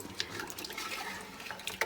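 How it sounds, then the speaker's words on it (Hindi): Water poured into a pot for mutton paya, a steady close splashing stream that runs throughout with small louder bursts. "ये मैंने 1 लीटर डाल दिया है, 1 लीटर मैं और डालूंगी"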